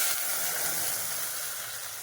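A continuous bright sizzle and hiss as spicy chutney is poured into hot tempering oil with curry leaves in a pan, steady and close throughout.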